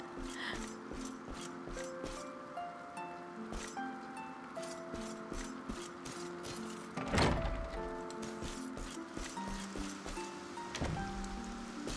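Steady rain in the video game Dragon Quest XI, a soft continuous patter with occasional thumps and a louder burst partway through, heard without talk.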